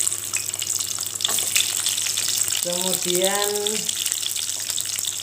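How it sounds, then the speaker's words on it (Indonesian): Shallots, garlic and red chilli sizzle steadily in a pan, a continuous broadband hiss of stir-frying for rawon beef stew, with a brief voice speaking over the frying partway through. "kita mau menggongso dulu bahan-bahan seperti bawang"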